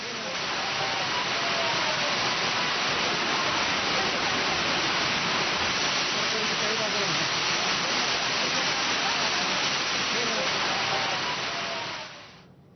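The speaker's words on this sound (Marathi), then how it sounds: "या पायऱ्यांवरती जणू धबधबा प्रवाहित झालाय असा भास व्हावा इतका पाऊस या गडावर पडला" Heavy monsoon rain sends water cascading down the stone steps of a fort like a waterfall, making a steady, dense roar that holds evenly throughout and then cuts off sharply at the end.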